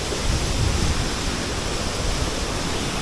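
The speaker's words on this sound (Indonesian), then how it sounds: "Ini kayaknya sungai terus dibendung gitu ya." River water pours steadily over a small dam on a village mountain road near Gunung Prau, a loud, continuous broadband rush with no pauses or voices.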